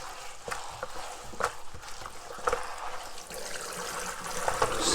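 Wild poke greens being rinsed under running water, a steady trickle and splash with small clinks and swishes from handling the leaves, close and moderately loud throughout.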